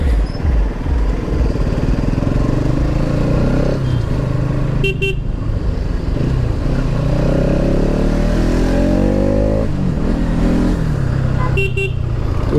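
A Bajaj Pulsar NS 200 motorcycle rides along a road with a steady, loud engine drone that rises and falls with the gears, while brief car horn toots cut through twice.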